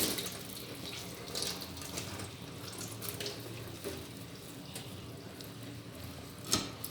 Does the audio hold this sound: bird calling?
no